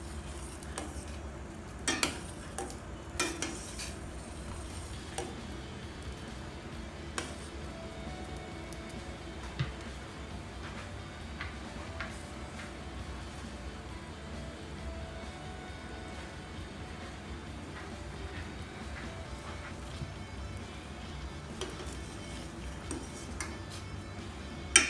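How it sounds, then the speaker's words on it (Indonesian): Tapioca boba pearls stirred in a cooking pot: faint, scattered scraping and clinks of a utensil against the pot, with a few louder knocks, over a low steady background hum. "Ini masaknya harus diaduk terus ya teman-teman, supaya bobanya tidak lengket."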